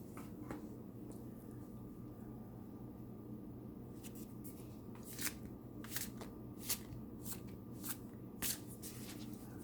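Wandering Star Tarot cards being shuffled up close, a quiet run of crisp riffles and sharp card snaps that grows busier partway through, over a low steady room hum with no talking.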